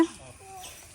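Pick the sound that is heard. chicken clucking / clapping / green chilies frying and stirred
chicken clucking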